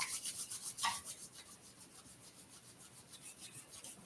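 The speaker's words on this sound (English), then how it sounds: "rub your hands together" Hands rub briskly together in soft, rhythmic swishing strokes that are faint, close and heard alone with no talk.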